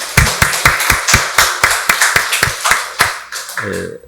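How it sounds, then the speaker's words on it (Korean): A church congregation at a Korean Sunday worship service claps loudly and steadily in a quick, even rhythm close by, then the clapping breaks off as a voice begins. "박수로 하나님께 영광 돌리겠습니다"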